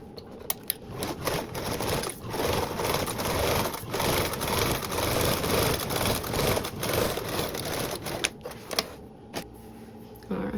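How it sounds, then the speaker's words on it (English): A sewing machine bastes a seam with a one-eighth inch allowance on a tote bag, giving a steady, continuous close-up whir that runs nearly the whole time, with a few brief clicks and handling noises near the end. "Now we're gonna baste this with a 1/8 seam allowance."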